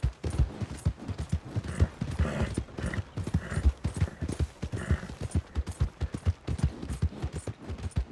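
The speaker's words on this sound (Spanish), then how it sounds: "seguiremos yendo con este caballito hasta conseguir el caballo más potente" Horse hooves clip-clop at a steady riding rhythm in Red Dead Redemption 2, close and distinct, with the occasional creak of tack and no talking over the repeated beats.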